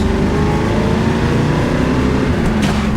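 A 1968 Chevrolet Camaro RS/SS with a 396 big-block V8 and 3.73 gears revs up close, its deep, loud rumble steady and continuous with no voices.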